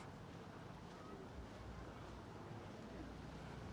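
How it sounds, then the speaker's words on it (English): Sea washing against harbour walls and rocks along a seafront at night, a steady close wash of surf blended with wind buffeting the microphone, continuous throughout. "I love the sound of sea washing against the walls"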